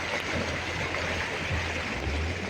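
River water rushes in a steady, continuous flow close by, with a low engine-like hum underneath.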